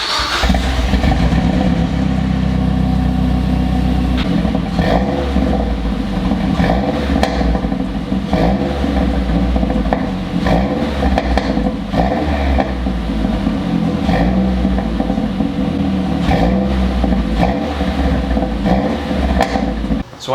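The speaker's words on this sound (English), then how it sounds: "when I start the car, I'm gonna run it for 30 seconds or a minute" Mazdaspeed 3 engine idling after an oil change with the under tray off, a loud close steady mechanical rumble and ticking running continuously without talk.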